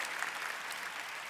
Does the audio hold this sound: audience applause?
yes